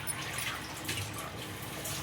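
Remaining water poured into a simmering masala curry after salt is added, a soft, continuous trickling splash, faint and close.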